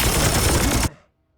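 A loud, dense burst of automatic gunfire in Warhammer 40,000: Chaos Gate – Daemonhunters lasting under a second, then cutting off abruptly into a short fading tail.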